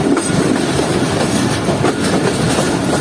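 Passenger train 152 Down pulling into Digh Road Junction station, a steady loud rumble of rolling railcars with rhythmic wheel clatter over rail joints and faint squeal, continuous with no talking.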